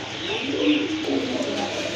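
Pigeons coo softly and continuously, close by, while a pair sits at a Bangladeshi pigeon dealer's shop with other birds calling in the background.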